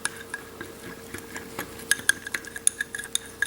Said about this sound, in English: I'm gonna whisk it up with my trusty mini whisk.